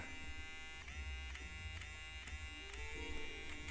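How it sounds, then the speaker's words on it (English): A small electric eraser runs in short bursts against a gouache painting on artboard, making a steady high buzzing whine that pulses as it is pressed and lifted. "then I can use the electric eraser and just kind of"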